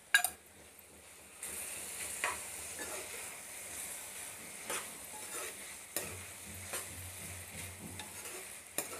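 An eggplant curry with fenugreek and turmeric cooks in a pan, with a quiet, steady simmering sizzle. Occasional soft clinks and scrapes of stirring sound close by.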